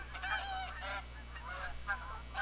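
Flock of snow geese in a hunting video game, a dense chorus of honks overlapping from moderate distance over a steady low hum, no talking.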